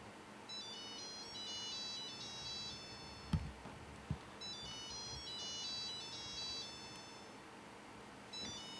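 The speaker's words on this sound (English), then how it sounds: "That was my phone ringing." A mobile phone rings with a repeating electronic melody in two bursts, faint and somewhat distant in a quiet room, with a couple of soft thumps between.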